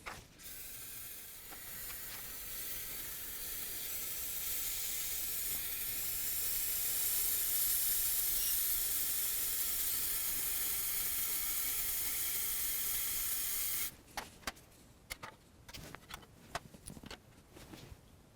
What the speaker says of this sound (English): I have a can of brake clean, and I'm going to empty that out in this magnetic tray